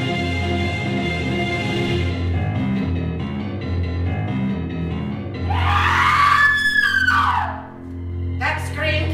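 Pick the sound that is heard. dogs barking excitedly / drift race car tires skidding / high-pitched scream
high-pitched scream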